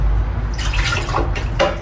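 Coffee trickles and drips as it is poured out into a cup or sink, a short, close, splashy liquid sound with no talking.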